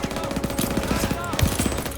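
Rapid automatic gunfire rattles in the World War II shooter game Call of Duty WWII, repeated close bursts with a few heavier blasts, loud and dense.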